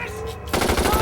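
Rapid bursts of machine gun fire sound abruptly and loudly in a post-apocalyptic vampire action film, after a brief stretch of tonal background sound.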